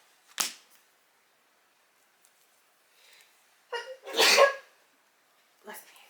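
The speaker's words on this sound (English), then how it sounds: "I have to sneeze so bad." A sharp close sneeze, followed by a second, louder explosive sneeze a few seconds later in an otherwise quiet room.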